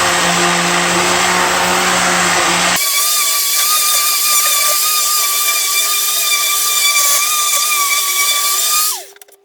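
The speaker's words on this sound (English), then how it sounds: "So I'm just going to lightly sand our facing sides." A power sander lightly scuffs the facing sides of reclaimed pallet and fencing wood, a steady close whining motor hum that runs continuously for several seconds before winding down and cutting off near the end.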